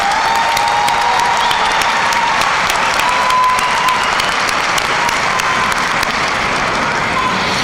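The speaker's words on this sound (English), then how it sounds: "Please join me in another round of applause for the Kirkwood Concert Band" Sustained audience applause for a concert band at a college commencement ceremony, a dense, steady wash of many hands clapping at even loudness throughout, with no talk over it.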